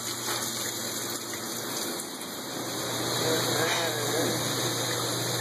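Steady rushing of water pouring into a grease trap, a broad continuous gush that swells slightly louder midway, with a low mechanical hum beneath.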